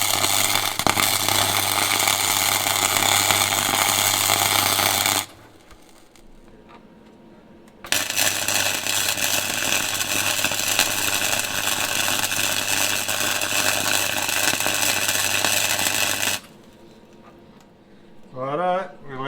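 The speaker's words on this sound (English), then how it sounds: "we will weld this and then do the same to the other side real quick" Welding on a 1934 Plymouth car body, a loud steady crackling buzz in two long runs of about five and eight seconds with a quiet gap between, and brief voices at the end.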